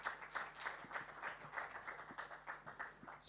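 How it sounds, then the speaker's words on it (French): Sparse, uneven clapping from a small audience at an entrepreneurship pitch workshop, individual claps standing out in a loose rhythm, fairly quiet and with no voices. "On peut encore l'applaudir très fort."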